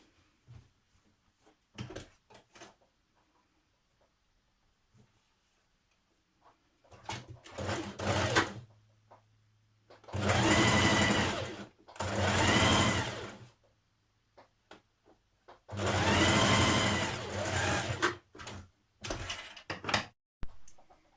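Sewing machine stitching a seam on a Simplicity 8218 jacket, with short clicks and handling noises first, then three sustained bursts of rapid motor-driven stitching separated by pauses, close and clear.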